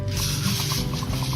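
A pressure sprayer mists banana peel fertilizer onto plants, a short continuous spray hiss at close range with faint rustling and no talking.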